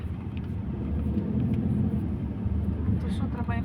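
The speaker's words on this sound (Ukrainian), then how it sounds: "Ось які вертольоти які літають." Firefighting helicopters fly over a wildfire in Spain, a continuous heavy rotor and engine rumble heard from a distance, with voices talking faintly over it.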